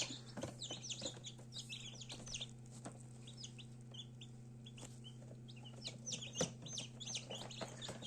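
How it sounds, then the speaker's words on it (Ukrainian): Newly hatched chicks, some still pecking out of their shells, chirp in high, rapid peeps over a constant low incubator hum, the calls scattered and overlapping throughout at moderate volume. "Курчатка наші ось. Деякі вилупились, деякі вилупляються, деякі є ще проклюнуті."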